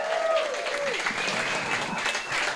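Audience applause and cheering in a radio station green room for a band Q&A, a steady wash of clapping with whoops and shouts throughout, loud and close, without clear speech.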